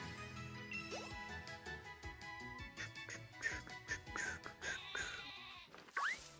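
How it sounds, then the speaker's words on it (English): Sheep bleating in the Pokémon Shield video game, a few short wavering bleats rising over busy game music and background sounds, near and moderately loud. "I heard a sheep."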